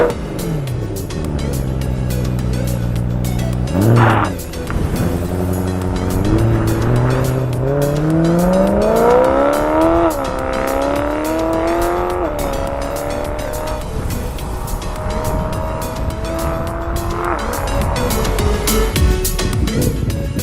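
A BMW M3 engine fires up on a cold start with a sharp revving bark, then holds a loud, rising, high idle that slowly settles, close and continuous without talk.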